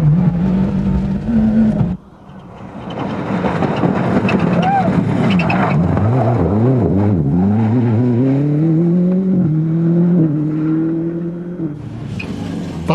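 Toyota and Subaru rally cars race on a stage of an international rally in Cork in 2000, one engine revving hard and shifting through rising gears close by, with commentary heard over the cars.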